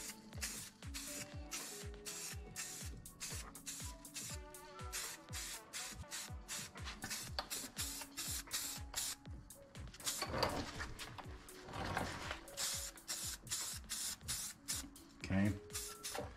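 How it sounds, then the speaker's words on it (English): A light first coat of spray paint goes onto brake calipers of a 2022 Subaru WRX, heard as a rapid series of short, close hissing bursts with soft handling clatter between them. "I need to get underneath the bottom side here and spray this."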